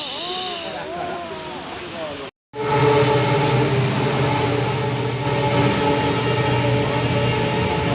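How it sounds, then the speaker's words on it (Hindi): An Indian passenger train pulls into a station on a Bangalore to Deoghar trip, its loud continuous rumble and clatter filling the platform, with a horn-like tone and voices early on. "Here comes the train, excited to go see the rush."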